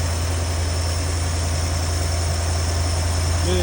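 A 1975 Ford E100 van engine idles steadily after a carburetor diaphragm replacement with its choke pulling off, a smooth, even low rumble holding close and constant throughout.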